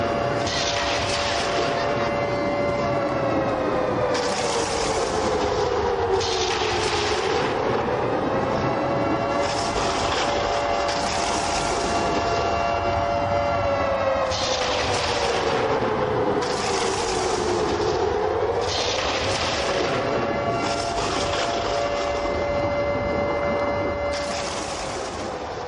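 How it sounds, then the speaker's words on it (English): Siren wailing at an indoor football game after a score, a steady rising and falling tone held for the whole stretch with a loud crowd roaring in the arena around it. "Let the siren roll."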